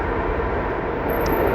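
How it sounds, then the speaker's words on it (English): A New York subway train on the B and C line rumbles beneath a street grate, a loud, steady low roar filling the whole moment with no break. "You can actually hear the subway going under me right now. There's a grate just underneath me."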